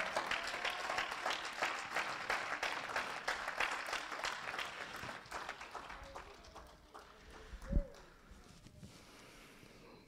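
A church congregation applauds in a dense, steady wash of clapping that gradually thins and fades, with a brief low thump near the end.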